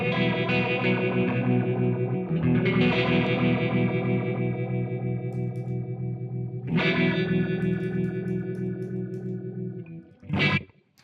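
Electric guitar run through an IK X-Vibe pedal on its Fox setting, a distorted, swirling chorus-like wobble with sustained chords, a fresh strum near the seventh second and a brief sharp burst near the end, played alone.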